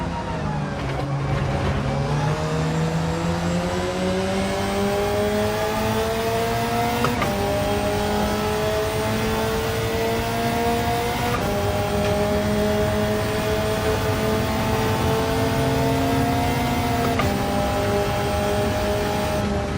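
A Hyundai Elantra N engine racing round Mount Panorama in Gran Turismo 7 holds a steady, loud drone, rising in pitch through each gear and briefly dipping at shifts, with no talk over it.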